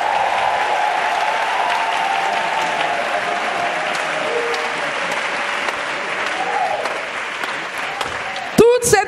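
A church congregation in Abidjan applauds steadily and loudly, a dense wash of clapping that continues for several seconds before a few louder bumps at the end.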